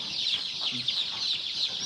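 Seven-day-old chicks peep continuously in a high chorus, with a few soft clucks underneath.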